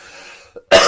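A single sharp cough bursts out at the end, loud and close, after a stretch of quiet breathy noise, following vaping.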